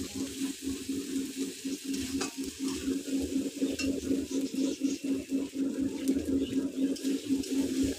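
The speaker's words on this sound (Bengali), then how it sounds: "জিরেটা দিয়ে ভালোভাবে ভেজে নিচ্ছি।" Cumin seeds frying in a little oil for chicken curry, a close, continuous hiss and crackle under a rhythmic scraping of a spatula stirring through the pan, steady throughout with no voices.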